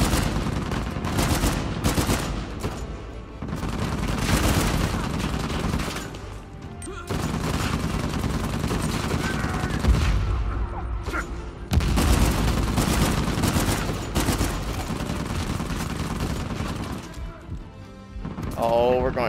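Heavy armored gunner enemy firing in Uncharted 4, with loud dense sustained gunfire bursts running nearly throughout, briefly easing midway, alongside music and game effects, while someone talks over it.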